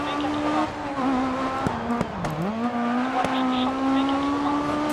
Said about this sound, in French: Petit dérapage, petite glisse là qui va bien.